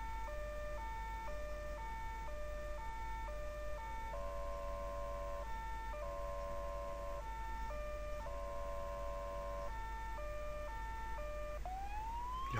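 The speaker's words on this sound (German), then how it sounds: "Wir haben hier ja schon ausgefallene Sirenen." Wailing police and emergency vehicle sirens in the Emergency 4 video game with a Polish rescue mod, several alternating two-tone patterns layered steadily for the whole stretch, ending with a rising sweep.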